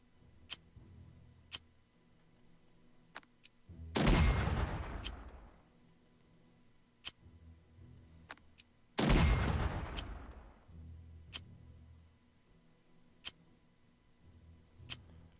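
Artillery fires in the Unity of Command II strategy game as two heavy booming blasts with long decaying rumbles, set against faint recurring ticks.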